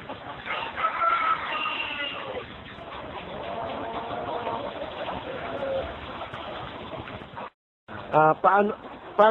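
Chickens on a chicken farm cluck and call while feeding, a dense continuous chorus of many birds close by, with people talking over it and a short louder burst of calls near the end.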